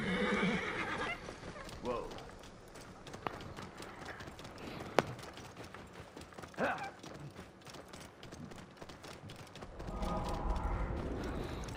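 Horses in the Egyptian open world of the video game Assassin's Creed Origins whinny and neigh several times across a busy ambient scene, with hoof clip-clops and faint mechanical creaks in between.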